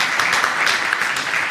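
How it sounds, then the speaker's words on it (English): Audience applause at a tech conference talk on Pester tests, a steady dense wash of clapping filling the short span without a break. "Give yourself a round of applause,"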